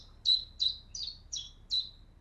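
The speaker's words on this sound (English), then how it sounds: "So this is what the bird sang. And then the AI continues it." A songbird phrase of five short, high chirping notes in an even rhythm, each a bright slurred whistle separated by brief gaps, clear and close over near silence.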